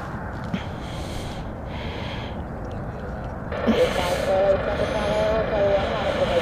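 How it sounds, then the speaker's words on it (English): A Ryanair airliner lands at Stansted Airport: a distant jet roar that swells suddenly partway through into a louder, rising engine whine, with wind noise over the top. "Slightly bumpy landing there from Ryanair, true to form."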